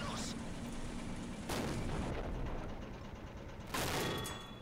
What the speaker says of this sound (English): That's the second main gun. Didn't penetrate the armour.